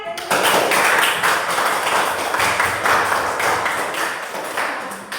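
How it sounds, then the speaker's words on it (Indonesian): Classroom applause for a group that has just finished presenting, a dense wash of many hands clapping steadily and fairly loud for about five seconds. "Silakan berikan tepuk tangan."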